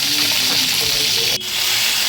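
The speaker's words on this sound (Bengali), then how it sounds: "সিমগুলো ভেজে নেব।" Flat beans frying in mustard oil in a wok, a steady close sizzle with a brief dip near the end, no talking.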